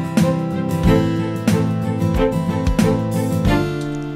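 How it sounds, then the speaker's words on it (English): Sustained flute notes from a standard Kontakt sample library play a slow, legato line, with soft new note onsets arriving every second or so at a steady, moderately loud level. "I'm just using the basic contact standard flute."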